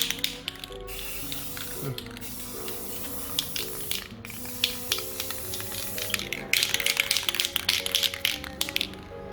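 Spray paint hissing onto a 3D-printed Red Hood helmet as a coat goes on, in bursts of varying loudness, with clicks and taps of handling mixed in and some background music.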